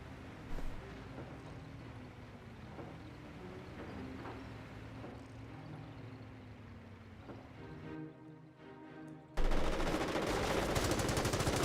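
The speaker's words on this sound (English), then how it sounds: "30 cal firing away." A .30 cal machine gun firing in Company of Heroes, rapid bursts rattling fairly distantly over battlefield rumble, with a louder, denser stretch of noise near the end.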